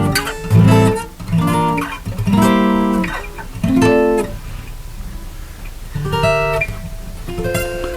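Chords built from the 3rd, 5th and 7th above each scale note, played one after another up the scale on an instrument, each chord ringing out clearly alone, roughly one per second, with brief gaps between.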